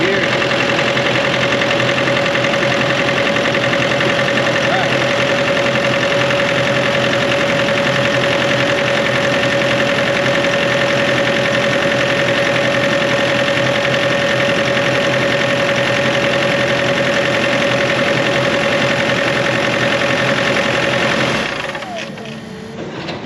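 A Bobcat diesel engine, just revived with one replaced fuel injector, idles loudly and steadily nearby with an even mechanical drone and a knocking undertone, then cuts off abruptly near the end.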